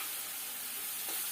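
Chili and turmeric paste fries with prawns in a pan, giving a steady, close sizzle that hisses evenly throughout with no voices.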